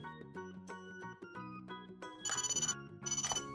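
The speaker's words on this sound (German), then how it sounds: "Oh, das Telefon klingelt." A Miraculous Ladybug Cat Noir toy magic phone with light and sound effects rings with a loud electronic ringtone melody, ending in two bursts of rapid trilling bell rings, with no talking.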